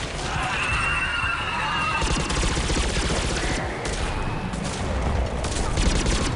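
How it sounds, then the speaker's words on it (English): Rapid suppressed pistol fire in Mass Effect 3, a dense, loud run of shots and impacts layered over busy combat noise throughout. "We go to our most powerful weapon, which is our suppressed pistol for some reason."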